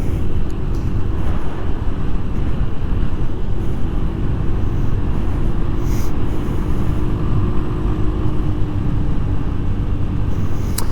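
Genuine Buddy 170i scooter riding in traffic, its engine droning steadily with heavy wind rumble over the microphone, a continuous loud noise with no talk.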